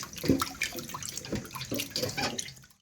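A batch of chicken meat is rinsed clean under running water, with splashing and gurgling that rise and fall in uneven bursts as the pieces are handled, ending in a brief near-silence.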